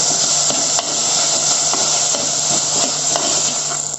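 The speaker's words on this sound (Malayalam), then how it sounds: "ഇനി നമുക്ക് ഇതിനകത്തേക്ക് ഒരു 2 മീഡിയം സൈസ് തക്കാളിയാണ്, അത് മുറിച്ചത് ഇട്ട് കൊടുക്കാം. ഇത് നന്നായിട്ട് വഴറ്റുക." Two medium chopped tomatoes sauté in a pan for a Malabar-style crab curry, a steady close hiss and sizzle with faint occasional clicks of stirring, no voices.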